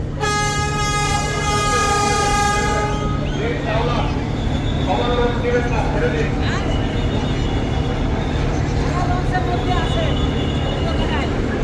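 The passenger launch Kuakata 2 departing the Barishal ghat sounds a loud, steady horn blast lasting a few seconds, followed by busy riverside crowd noise and a steady low engine hum.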